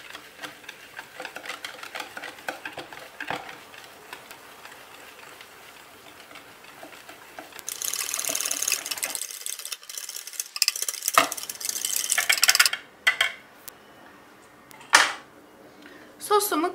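Flour sauce whisked in a bowl until smooth makes a fast, steady scraping and ticking that grows louder in the second half, close by, with a voice talking over parts of it.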